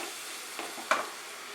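Spice paste sautés in a pan with a little added water and shrimp on the way, making a low soft sizzle broken by a couple of brief scraping stirs, one louder near the end.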